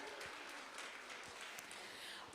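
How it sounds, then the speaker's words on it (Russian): Applause at a presentation of a Tatar-language learning project, quiet scattered clapping from an audience with crisp individual claps, faint and distant throughout. "Под бурные аплодисменты"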